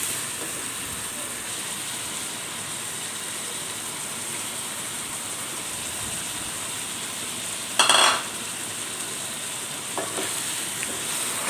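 Fried chicken and two medium chopped tomatoes sizzling in a pan for chicken biryani, a constant dense hiss with a sharp scraping stir around the middle and softer stirring later, no talk.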